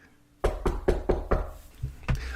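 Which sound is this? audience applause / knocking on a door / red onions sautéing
knocking on a door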